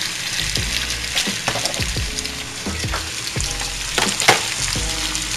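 Chicken and vegetables sizzle in a pan, loud and close, while a utensil stirs and scrapes through them in repeated strokes, with no talk.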